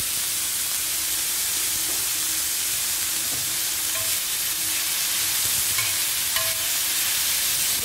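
Egg sandwich filling with tomato and a pinch of salt stirred in a hot pan, a continuous loud sizzle and hiss with soft scraping of a spoon underneath, close and unbroken throughout.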